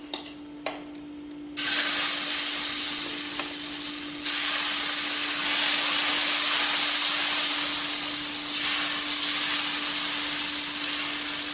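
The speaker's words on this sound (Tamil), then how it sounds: "நம்ம இப்போ தோசை ஊற்றலாம்." Beetroot dosa batter poured onto a hot pan, starting with a few light clicks and then a sudden loud, sustained sizzling hiss close up that swells and eases slightly, with no talking.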